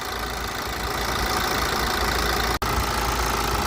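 A BMW 520d G30 diesel engine idles steadily with the hood open, a loud, continuous rumble and rattle, briefly cutting out for an instant before resuming.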